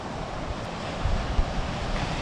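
Atlantic Ocean surf washing onto the sand at Ormond Beach, Florida, at sunrise: a steady, broad roar of breaking waves with a few slightly louder swells and some wind buffeting the microphone.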